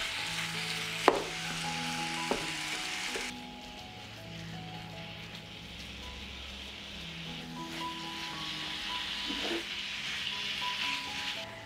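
Minced meat fries with onion and garlic in a pan. A clear sizzle is punctuated by a couple of sharp utensil knocks, dips briefly after a few seconds, then builds back to a steady crackle.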